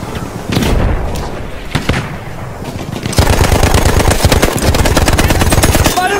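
Machine gun fire rattles in the Battlefield 1 video game, with dense rapid bursts and booming shots at first, then a sustained loud close-up stream of automatic fire.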